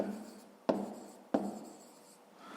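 Pen on paper while writing out a fifth-grade math exercise, a soft continuous scratching with two sharper taps, quiet and close.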